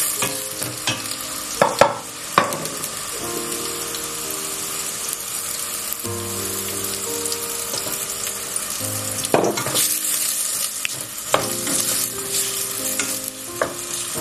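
Onions frying in a pan until light brown, a steady sizzle with frequent stirring scrapes and occasional clanks of a utensil against the pan, continuous and close, no talking.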